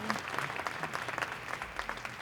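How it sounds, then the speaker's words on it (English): Brief, steady applause from an audience at an annual awards ceremony, with moderately loud, continuous clapping throughout. "they deserve a round of applause"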